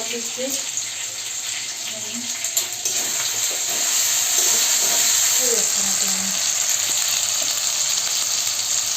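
Ginger and chili paste sizzles in a hot pan, a steady frying hiss throughout with a louder surge midway, while someone talks over it.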